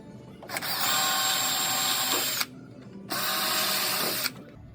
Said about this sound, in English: we're using a flathead screw so that we can get it engaged, countersunk in there